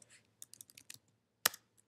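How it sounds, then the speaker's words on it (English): Several quick keystrokes on a computer keyboard, close and quiet, tapping in short irregular bursts with a louder clack near the end. "I'm going to now exit and type in groups"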